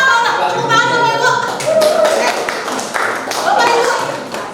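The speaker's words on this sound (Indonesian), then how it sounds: "Tepuk tangan Bapak Ibu" Scattered audience clapping from teachers at a school session on positive school culture, with a speaker's voice talking over and around the claps.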